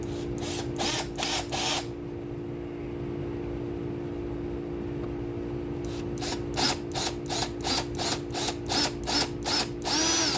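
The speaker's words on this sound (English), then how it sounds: "I don't know if this bit will even fit this drill" A power drill whirs into wood of a cigar box guitar in short, rapid bursts, a cluster at the start and a longer run of quick pulses after a steady hum in between.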